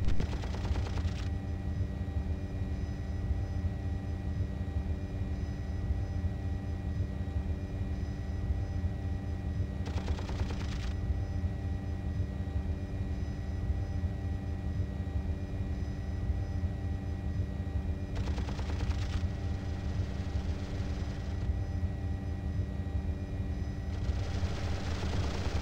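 Apache helicopter cannon firing in a combat game: several short bursts of rapid gunfire punctuate a continuous loud rotor and engine drone that runs throughout.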